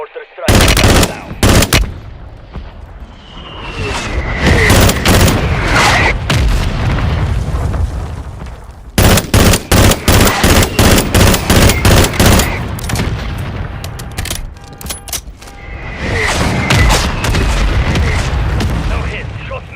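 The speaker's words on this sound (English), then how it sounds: "Requesting fire mission. Target marked. Copy that. Mortar strike now." Mortar strike explosions in Modern Warfare 3 Warzone on PS5: loud booming impacts mixed with rapid gunfire bursts and rattling volleys, close and intense, with game voice radio chatter in between.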